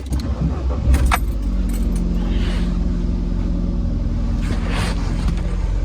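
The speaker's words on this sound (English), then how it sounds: "let us start the car." A Ford Fiesta Mk6 engine starts, settling into a steady idle hum after a brief jangle and click at the start, the low rumble continuing evenly throughout.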